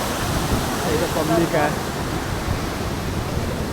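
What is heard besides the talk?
waterfall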